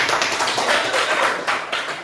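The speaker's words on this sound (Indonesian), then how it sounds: "berikan tepuk tangan untuk kelompok 1" Classroom group of students applauding after a group presentation, steady dense clapping from many hands at close range, continuous for a couple of seconds with no talk.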